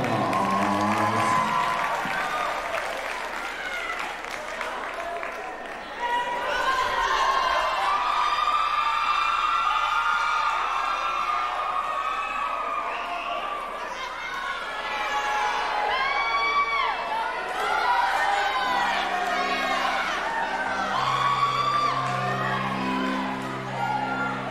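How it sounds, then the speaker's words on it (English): A large crowd at a Christmas rally applauds and cheers for a choir, loud sustained clapping with whoops and shouts rising and falling over about twenty-five seconds, with tonal sound entering near the end. "Give them a big round of applause."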